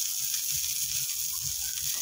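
Two hotdogs frying in a pan, a steady bright sizzle of hot oil running continuously, fairly close and with no talk over it.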